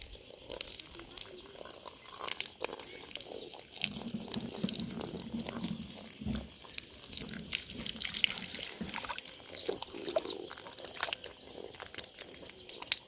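Water runs steadily into a tank at a mountain village home, leaving it to fill slowly. A continuous trickle and splash goes on with scattered crunchy knocks throughout.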